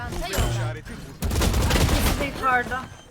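Valorant gunfire bursts loudly in quick volleys of close shots amid game effects, with voices talking over parts of the action.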